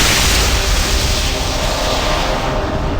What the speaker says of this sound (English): the entire cave was engulfed in an explosion of blinding light